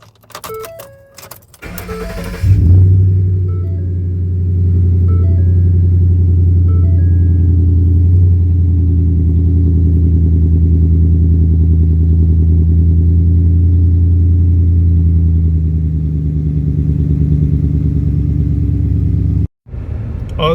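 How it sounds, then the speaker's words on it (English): A tuned family hauler truck engine cranks briefly, then catches and settles into a loud, steady idle rumble that holds close and unchanged for most of the clip before a short cutout near the end. "We're going to go ahead and start this up and make sure everything runs right"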